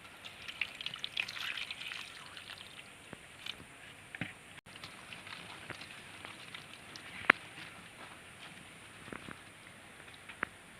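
Fresh lychees rinsed in water, with soft trickling and splashing, small drips and scattered clinks throughout, fairly quiet and close, no talking.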